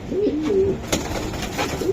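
Pigeons coo nearby in soft, repeated low warbling calls, with faint background rustling and no talking.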